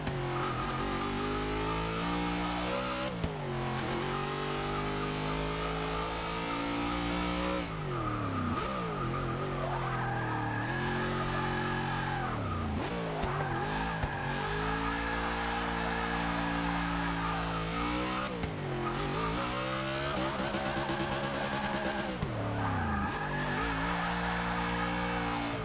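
A 1993 Ford SVT Cobra R in Forza 6 revs loud and steady, its engine note climbing and dropping through repeated gear changes, with tire squeal mixed in as the rear wheels lose grip; no one talks.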